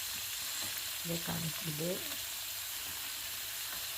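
Yam pieces fry in a pan with a steady, soft sizzle throughout, while a voice briefly speaks over it near the middle.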